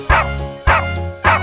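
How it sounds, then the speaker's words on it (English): Three loud dog barks in an even rhythm sound close and bright over a musical backing, set in a cheerful children's nursery rhyme song about a farmer's dog. "There was a farmer, had a dog, and Bingo was his name."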